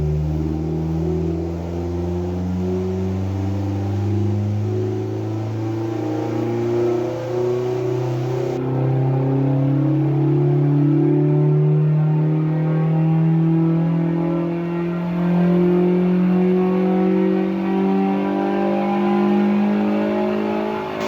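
A Ford Fiesta ST150 Mk6 with Newman cams and a remap revs hard on a dyno in a steady power run, its engine pitch climbing smoothly and loudly for about twenty seconds with no talking.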